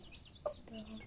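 A hen gives a single short cluck close by, with soft farmyard background and quiet voices around it.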